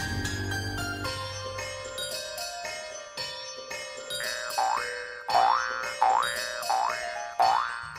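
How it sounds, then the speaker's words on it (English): A royalty-free cartoon ball-bounce effect: a run of springy boings, the last several rising and falling in a repeating rhythm, each clear and alone. "we add a ball bouncing sound effect"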